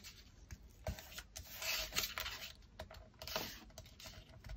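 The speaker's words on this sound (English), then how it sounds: "So let's see if we can make this into an envelope again. Gonna fold these in." Paper being folded into an envelope for aged-paper crafting, with soft creasing, rubbing and crinkling handled up close in short bursts, quiet and without talk.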